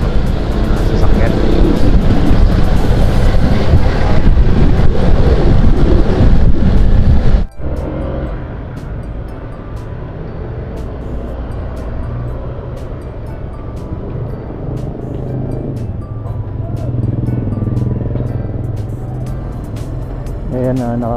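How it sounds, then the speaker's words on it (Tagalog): Loud, steady roar of passing motor vehicles, close by and continuous, with the noise dropping abruptly partway through and then continuing as a quieter traffic rumble. "Ingay sa audio ito sasakyan."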